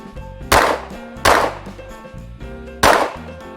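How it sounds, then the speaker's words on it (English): Three sharp, loud gunshots from a Springfield Armory Echelon 4.0C pistol at an outdoor range, spaced unevenly with brief ringing decay between them. "we're just trying to get some rounds through this gun"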